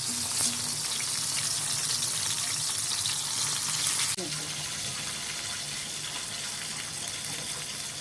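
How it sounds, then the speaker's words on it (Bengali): Continuous crackling sizzle of eggplant frying in hot oil, fairly close, with a brief clatter partway through. "আমি আরও কিছু আবার ভেজে নিচ্ছি"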